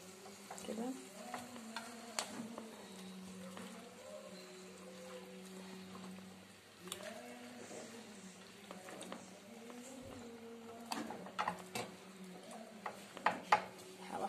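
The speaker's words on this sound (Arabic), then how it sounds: "واقلب اللي فوق تحت واللي تحت فوق كده، عشان يشربوا التتبيله" Marinated food is stirred and turned over in a pot, with soft scraping and a few sharper clinks of a utensil against metal, steady and fairly quiet throughout.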